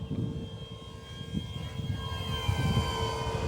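An Arrows Bigfoot 1.3 m RC model airplane's electric motor runs at full throttle, a steady loud whine with a rising tone over wind noise outdoors.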